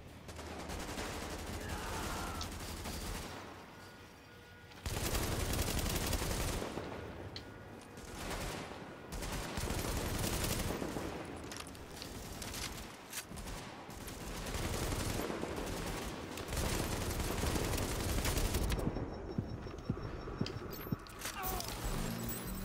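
Sustained bursts of gunfire from Tom Clancy's The Division, dense and loud across most of the stretch, with sharper single shots near the end.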